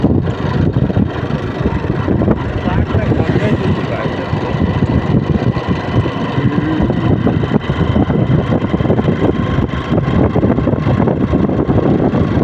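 A motorcycle engine runs loud and close throughout, a continuous rough drone at fairly even strength that is carried over a bumpy ride, with possible voices mixed into the noise.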